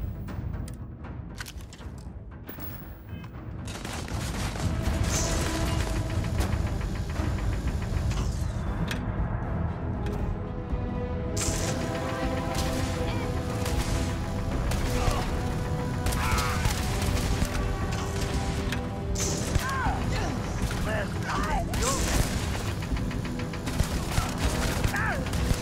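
Guns firing during a surrounded firefight in Starfield, with rapid repeated shots and crackling volleys running steadily for the whole stretch, mid-distance and dense amid battle noise.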